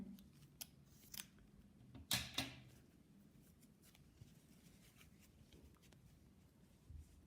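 Scissors snip crochet yarn close by, with a couple of quick sharp cuts amid faint rustling and handling in an otherwise quiet room.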